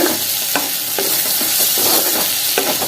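Tomatoes sautéing in a pan for a prawn gravy, a steady close sizzle broken by several sharp spatula scrapes and stirs against the metal.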